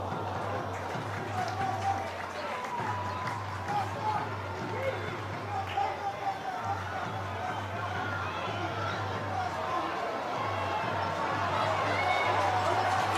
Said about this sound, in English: Oh, the crowd getting behind Brighton here.